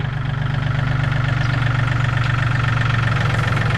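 A 2018 Yanmar 39 hp farm tractor engine with about 900 hours idles at normal rpm, a loud, steady low drone with an even rapid pulse, close by and with no talking.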